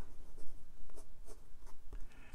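A 1950 Waterman Taperite Lady Crusader fountain pen with a fine nib scratching across paper, a series of short close strokes with brief pauses between them and no talk.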